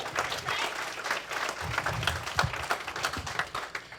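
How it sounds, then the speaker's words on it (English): Audience applause at a stand-up comedy show, moderately loud clapping with uneven bursts and a few scattered cheers mixed in, no speech over it. "y'all can clap"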